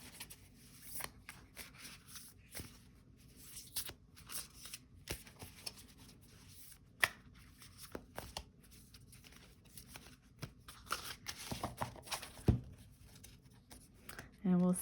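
Art poetry cards are shuffled by hand in a series of soft papery riffles and rubs that run throughout, close up and quiet, with a voice speaking intermittently over them.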